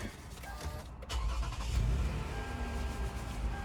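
A Toyota Sienna minivan engine cranks and catches, then settles into a steady low idle with a slight rev, heard up close.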